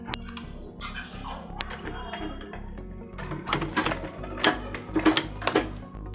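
A sewing machine stitches a zipper onto a winter jacket, running in close mechanical bursts with a rapid rhythmic needle clatter that grows louder and busier toward the end, broken by a few sharp clicks.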